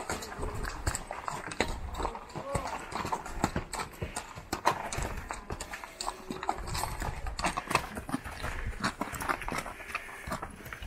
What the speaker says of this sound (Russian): Вот так вот наш конь поднимается.